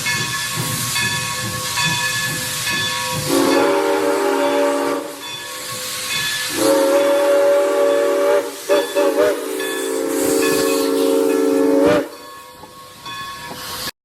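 A steam train whistle from New Hope and Everland Railroad locomotive 40 gives several long, loud, sustained blasts over a constant background of steam hiss, with brief gaps between them.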